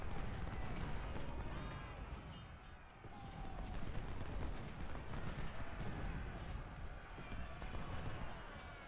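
Artillery fire rumbles through a Civil War battle in Ultimate General: Civil War, dense and continuous booms layered with scattered gunshots and horse hooves, loud throughout with no gaps.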